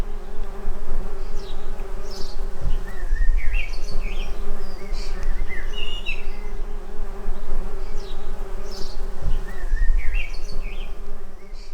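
A dense, steady drone of many bees buzzing close by on a Cotoneaster horizontalis shrub in an English front garden, with faint bird chirps now and then in the background.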